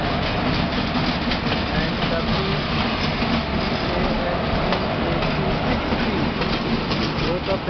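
An express train pulls out of Karjat station pushed by WAG7 banker locomotives at the rear, giving a steady loud rumble of rolling wagons and heavy engines throughout, with people talking over it.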